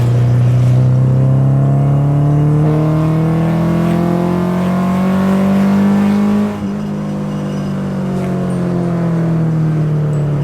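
A Honda Civic VTEC engine revs hard and climbs steadily in pitch, a loud, rising howl from inside the car, then drops briefly and continues at a lower drone.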